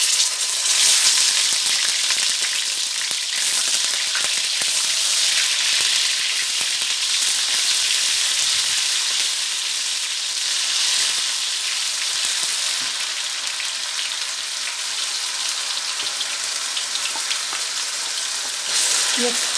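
Mutton gola kebabs fry in hot oil, a loud, dense, continuous sizzle and crackle like heavy rain, close and steady throughout with faint occasional stirring.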